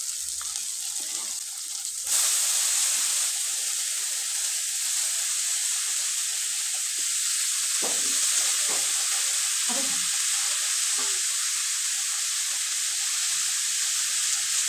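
Chopped cabbage and potato pieces fry in a hot pan with a steady, close sizzle that jumps louder once they go in and holds strong, with occasional stirring scrapes and no talking.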